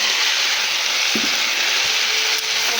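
Chopped tomato with ginger-garlic paste stir-frying in a pan for a fish-head and yardlong-bean chachchari, giving a steady loud sizzle with a couple of brief spoon scrapes.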